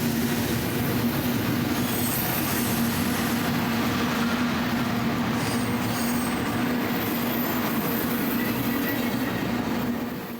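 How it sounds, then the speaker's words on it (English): A mile-long freight train rolls past continuously and loudly, with a steady rumble, rhythmic wheel clatter and a sustained squealing tone from the wheels, running without pause for the whole stretch. "I wanted to show this the amount of time that this train takes to pass us because we're talking about like a mile long train"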